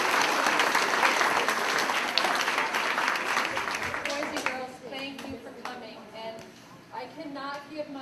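Applause from an elementary school science fair assembly fills the room loudly for several seconds, then thins into scattered claps as children's voices and talk rise over it.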